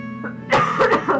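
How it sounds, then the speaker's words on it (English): A coughing fit from a person playing Dragon Age Origins: about four harsh, close bursts in quick succession after a brief quiet start, over a faint steady background hum. "Apologies for the coughing fits."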